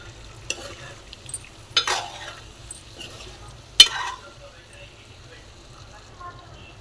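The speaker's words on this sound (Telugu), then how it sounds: "ఇందులోనే బాయిల్డ్ ఎగ్స్ కూడా వేసుకోవాలి. వేసుకొని నెమ్మదిగా కలుపుకోవాలి." Boiled eggs stirred slowly into frying masala in a pan produce a quiet background sizzle with a few distinct scraping and knocking stirs, one sharper than the rest.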